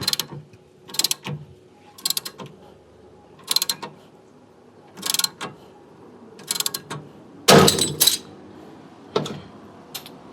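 A stub axle being forced out of a Honda Ballade hub with a ratcheting tool, heard as short, repeated metallic clicking bursts separated by pauses, close and fairly loud.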